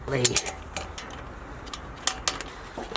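A ratchet wrench loosens bolts on a Mazda RX7 FC engine during a boost-leak check, giving a few sharp, close metallic clicks in brief irregular bursts over a low background hum.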